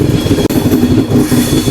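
A Garib Rath Express train runs along the track between Coimbatore and Bengaluru, its steady rumble and rhythmic clickety-clack of wheels heard loudly from inside, with a brief dropout midway.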